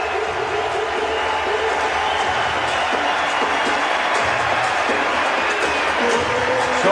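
A sold-out arena crowd at a Warriors versus Raptors basketball home opener at the Air Canada Centre sends up a dense, sustained roar of cheering and applause, with sneaker squeaks and bounces faintly underneath.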